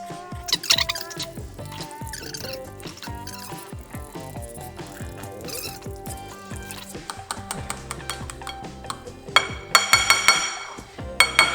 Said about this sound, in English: I'm gonna whisk it up, guys.